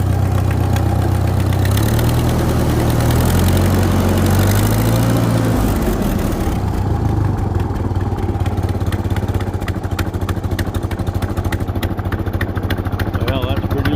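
An 80-year-old Ford 2N tractor engine idles close by, a loud, low, steady chugging rumble whose pitch sags and settles into a slower, rougher idle partway through.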